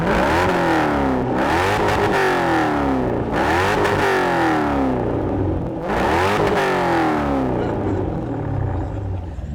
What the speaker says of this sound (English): The guys are having a little fun revving their engines up